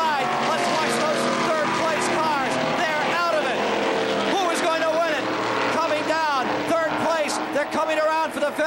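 NASCAR stock cars roar around Daytona at the 1979 Daytona 500, engines loud and continuous with rising and falling pitch as they pass, under steady race commentary.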